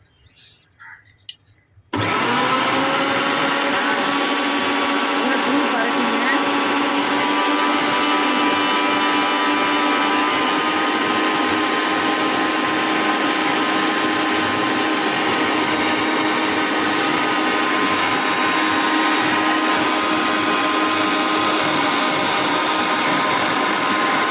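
A new Bajaj 1000W mixer grinder, set to a lower speed, starts after a few quiet seconds and runs with a steady, loud, high-pitched motor whine that holds unbroken to the end.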